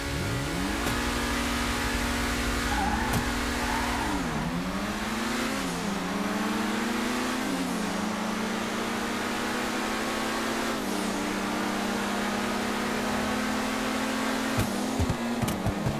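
Classic Grotti and Pegassi sports cars racing in GTA 5, engines revving loudly and continuously with rising and falling pitch through gear changes, close and sustained.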